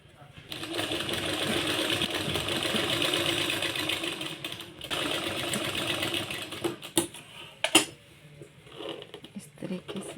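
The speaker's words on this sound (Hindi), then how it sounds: "सो इस तरीके से अब एक सिलाई लगा देंगे।" A sewing machine runs a continuous close whirring stitch through palazzo pants fabric, then slows into a few clattering stops near the end, with a voice faintly present underneath.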